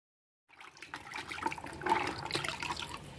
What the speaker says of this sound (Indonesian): Kita cuci semua sayuran yang kira-kira matangnya lama ya